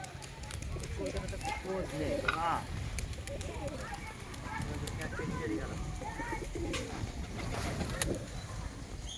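High-flyer pigeons coo and flutter amid a busy outdoor crowd, with people talking loudly throughout and other birds calling now and then.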